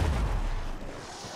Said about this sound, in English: Stun grenade, ugh.